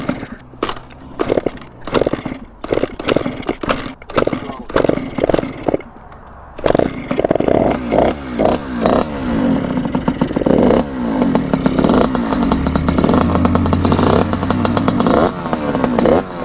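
Gas-engine Surron dirt bike kickstarted: a series of sharp kick strokes and sputters, then the engine catches and runs steadily with a rough, buzzing idle and some revving, close and loud.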